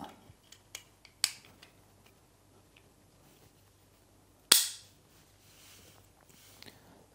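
A Mauser HSc pistol is reassembled with its barrel, recoil spring and slide going back onto the frame, giving a few light metallic ticks and clicks and then one sharp, loud snap of metal midway, followed by faint handling noises.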